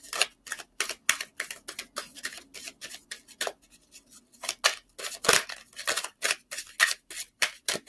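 A thick pile of cards being shuffled and pulled, giving a rapid run of close, crisp flicking and snapping clicks in uneven bursts with short pauses.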